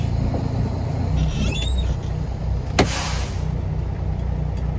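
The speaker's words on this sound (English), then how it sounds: "I'm going to release the tractor to test the trailer. Ease up off the clutch." A tractor-trailer truck in first gear strains against its set trailer brakes; a low, steady engine rumble is cut by one sharp burst about midway, with no talk.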